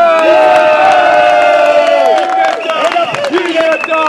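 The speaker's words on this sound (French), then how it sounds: "On applaudit" Loud, close crowd at a Paris political rally supporting a Brazzaville opposition meeting cheers, whoops and shouts over scattered clapping, with raised voices rising and falling throughout.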